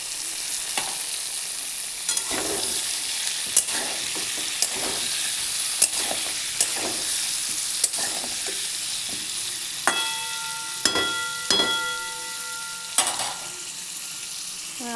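Potatoes, cauliflower and peas sizzling in an oily wok while a spatula stirs and scrapes, giving a steady frying hiss broken by repeated sharp metallic clinks and scrapes, close and continuous with no talk.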